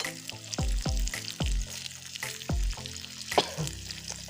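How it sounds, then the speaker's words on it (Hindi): Onions frying in mustard oil in a home kitchen pan, a steady sizzle broken by several loud stirring scrapes and knocks, close and fairly quiet, with no talking. "तो दोस्तों इसको अभी मैं पका रही हूँ, सरसों का तेल को। इसमें प्याज है"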